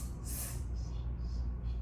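Sharp, forceful breathing during a staccato exercise while seated on the edge of a chair: a burst of air near the start, then quieter breaths over a steady low hum.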